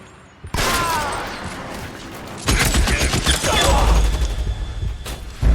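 Bursts of gunfire in the LA Noire video game, loud and dense, starting abruptly, pausing briefly, then resuming in heavy rapid volleys with sharp thumping shots close by.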